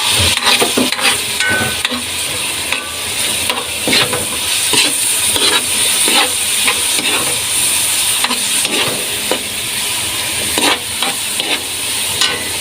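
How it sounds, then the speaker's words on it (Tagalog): Sautéed bottle gourd is stirred in a hot pan, a steady sizzle and hiss broken by repeated scraping strokes of a spatula, loud and close. "Haluin ulit natin mga ka-food trip."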